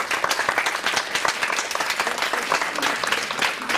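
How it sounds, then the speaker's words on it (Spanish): A conference audience at a talk on smart grids gives steady, dense applause that continues evenly throughout, with a full room of clapping. "Lo recibimos con un fuerte aplauso,"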